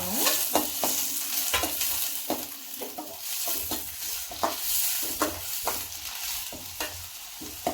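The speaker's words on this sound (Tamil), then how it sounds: "அடுத்தது வெங்காயம் போட்டுக்கலாம். வெங்காயம் கொஞ்சம் நல்லா வதங்கணும்." Chopped onions sizzle and fry in a hot pan for masala paniyaram, with a spatula repeatedly scraping and stirring them in steady, close strokes under a constant crackle.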